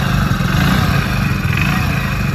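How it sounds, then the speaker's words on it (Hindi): Hero Splendor XTec 100cc BS6 motorcycle engine idling after starting, a steady close-up putter with a light mechanical clatter and no talk. "जैसे ही हम इसका इंजन ऑन करते हैं तो ऐसे कुछ इसमें इंजन साउंड सुनने को मिल जाती है।"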